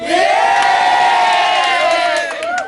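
A crowd at a rap battle in Cagayan de Oro roars with sustained cheering and shouting, loud and continuous, swelling then dipping slightly near the end.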